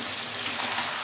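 Chicken pieces frying in a pan as their juices cook off, giving a steady, soft, even sizzle throughout, fairly quiet and with no voices.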